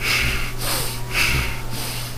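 Heavy, rhythmic panting breaths of an exhausted video game character out of stamina in Evil Islands, about four gasping in-and-out cycles over a low steady hum, close and strained.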